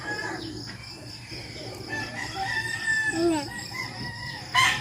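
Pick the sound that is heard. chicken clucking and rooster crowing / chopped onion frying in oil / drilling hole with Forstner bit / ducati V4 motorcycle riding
chicken clucking and rooster crowing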